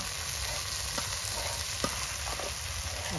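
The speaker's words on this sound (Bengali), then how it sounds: "ডালটাকে ভাজতে হবে।" Dal frying in a pan in a village kitchen, a steady broadband sizzle that runs the whole time with a few faint clicks from stirring, close and even, with no voices.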